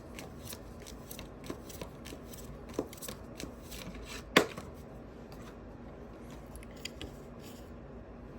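Tarot cards being shuffled and drawn from a deck during a summer solstice pick-a-card reading: soft, close papery riffling and handling throughout, with one sharper snap as a card is pulled, no talking.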